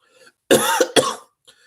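Someone clears their throat twice in quick, harsh bursts, close and loud, with near silence around them.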